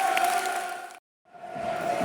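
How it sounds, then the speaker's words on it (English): Away-end football supporters at a Preston North End versus Millwall match applaud a substituted player, a steady broad crowd roar with applause that cuts out briefly before swelling back. "getting good applause from the away end"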